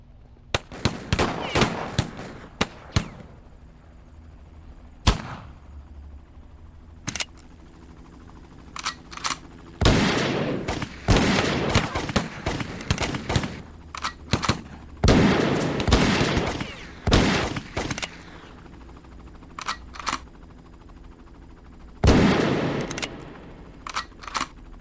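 A long exchange of sharp gunshots: scattered single cracks, then dense bursts of rapid fire, some near and loud, others fainter, with short lulls between.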